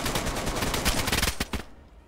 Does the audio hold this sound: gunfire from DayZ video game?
yes